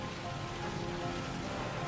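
A heavy rain downpour hisses as steady, dense, broadband noise with no gaps, pouring evenly throughout the short stretch.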